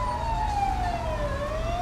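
A wailing ambulance siren in the video game GTA V sweeps slowly downward, loud and steady over a low engine drone, with no talk.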